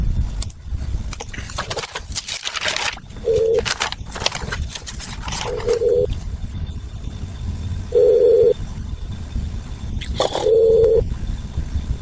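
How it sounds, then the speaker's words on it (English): A telephone ringback tone sounds while calling a state legislator's office: four short, steady tones repeat at roughly two-second gaps over a noisy, rustling background. "I'm calling State Legislator Gary Howell"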